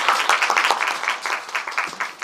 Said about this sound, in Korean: 우리 김규진 작가님께도 박수 한번.